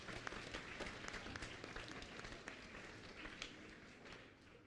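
Applause from a church congregation at an opening Mass for a school's seventh lustrum, honoring the Sisters of Charity of St. Charles Borromeo; steady, dense clapping of a large crowd, fairly distant and even throughout.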